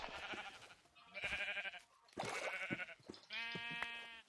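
Minecraft sheep bleat several times in a row, loud and close, each a wavering nasal baa from the blocky game animals, with no talk over them.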